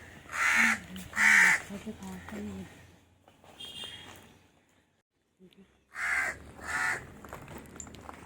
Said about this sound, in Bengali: কাকগুলো কেমন ডাকছে দেখো।